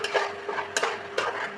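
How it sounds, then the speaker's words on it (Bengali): Dried chili powder and green chilies are stirred together in a pan: a brief run of about four quick, close scraping strokes of a utensil against the pan. "তারপরে এটা সব ভালো করে একটু মিশাবো।"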